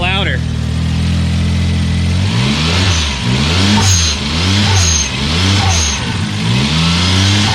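Suzuki Cappuccino small engine revving repeatedly through a newly fitted exhaust, close and loud, with rhythmic rising and falling revs over a steady idle.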